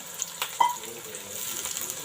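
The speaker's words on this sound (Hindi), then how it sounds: "थोड़ा सा हम इसमें पानी डालेंगे।" A small splash of water is poured into a pot of beef curry with green chillies, garlic and ginger, giving a brief, close pouring burst over a soft background hiss.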